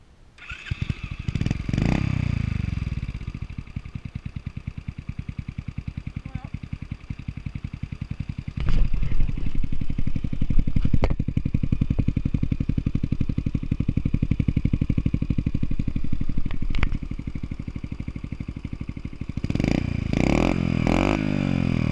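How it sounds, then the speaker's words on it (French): A Dax motorcycle fires up on its electric starter, then settles into a steady, loud idle that thumps evenly, with a couple of short revs and clunks near the end. "Démarrage électrique."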